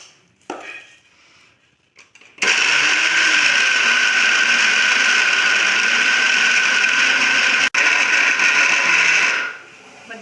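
After a few quiet knocks, a mixer grinder starts up loud and close, churning coconut filling for holige with a dense whirring grind for about seven seconds, with a split-second break near the end before it winds down.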